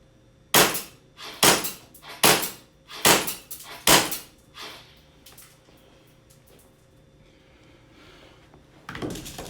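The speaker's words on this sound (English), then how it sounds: "Now we're going to move on and try the accuracy on the target. Okay, now we're going to test the accuracy of the pistol." An Action Army AAP01 Assassin airsoft pistol fires at a target: five sharp, snappy cracks at an even pace, close and loud, then near quiet before a brief rustle at the end.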